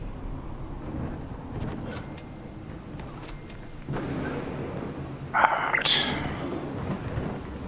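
Rain falls steadily in the Fallout 4 world while low thunder rumbles underneath, a few sharp clicking game effects ring out, and a louder crackling burst comes near the end; one brief spoken word is heard.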